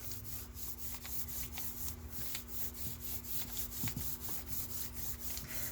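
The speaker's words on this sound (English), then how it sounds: "we're just going to rub right over the top of it" Scrap paper rubbed by hand over a gelli plate print, a steady close scratchy swishing with regular back-and-forth strokes over a faint constant hum, without speech.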